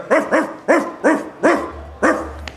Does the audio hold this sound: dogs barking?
yes